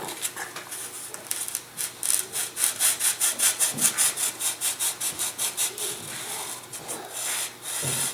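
Balsa wood glider wing joint being beveled for a chuck glider, a rhythmic series of close scraping strokes that speed into a regular back-and-forth rasp, fairly loud and alone.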